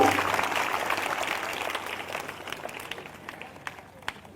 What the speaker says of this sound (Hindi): जोरदार ताली बजाकर धन्यवाद दें परमेश्वर को